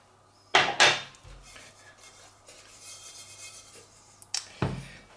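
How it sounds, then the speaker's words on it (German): Sugar being poured into a hot cast-iron pot for caramel, two sharp scraping, rattling bursts near the start and another near the end, with softer shuffling kitchen sounds between and no talking. "Jetzt geben wir unseren Zucker hier rein."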